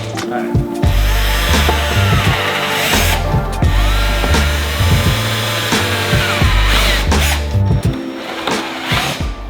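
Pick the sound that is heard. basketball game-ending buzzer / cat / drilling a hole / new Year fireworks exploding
drilling a hole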